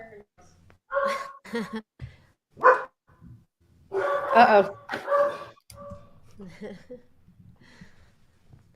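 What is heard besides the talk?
dogs barking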